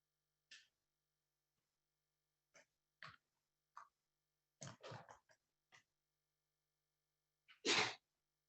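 Several short, sharp sneezes burst out one after another from nearly silent surroundings during a school board meeting, ending with one loud, forceful sneeze.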